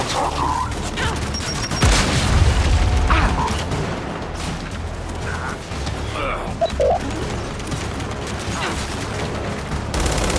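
A grenade goes off in the third-person shooter Gears 5, a loud deep boom near the start among ongoing gunfire, mechanical clatter and battle noise that continue throughout.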